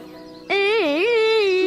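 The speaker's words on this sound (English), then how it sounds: "Hey, Buzz, stop buzzing in my ears." A small cartoon bee buzzes close by as one loud, droning, wavering tone that rises and dips in pitch and holds steady after a sudden start.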